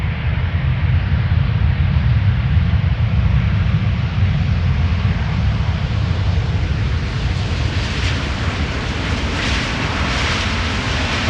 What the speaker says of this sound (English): Delta A350.